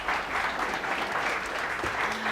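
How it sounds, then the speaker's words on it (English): Steady applause from an audience at a tech-community fireside chat with the founder of Twitch, fairly loud and continuous throughout the short stretch, a dense wash of many hands clapping. "So a round of applause for that, I feel is deserved."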